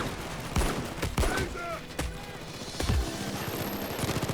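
Rapid automatic gunfire and heavy impacts in Payday 2, with bursts hitting a deployed sentry gun. Loud sharp cracks come in clusters, over a continuous rattling bed of game combat noise.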